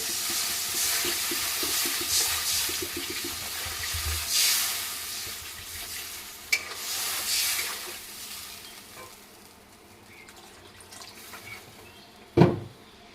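Water pours into a pan for a tilapia fish curry with bitter gourd and potato, a hissing rush and sizzle that tapers off, followed by a couple of sharp knocks, with no speech.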